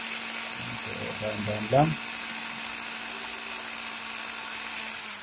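A power drill bores a hole in a refrigerator freezer door, a steady high whine running close and continuous throughout while someone speaks briefly near the start.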